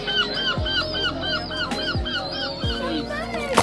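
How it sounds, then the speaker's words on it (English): Seagulls call in Padstow town centre, Cornwall, close to people eating chips: a run of repeated, arching squawks over steady outdoor bustle, with a few low thumps below. "And then we discovered seagulls, and they do love chips."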